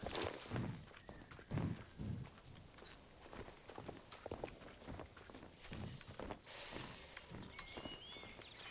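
Horse hooves clop along at a steady walking pace in the online riding game Star Stable Online, set in the Silverglade area, with soft irregular footfalls over quiet ambient background.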